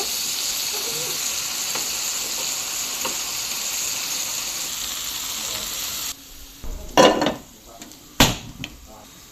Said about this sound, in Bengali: আমার রান্না শুরুতেই মাছ ভেজে নেব এই বাতিলেই আলু ভেজে নেব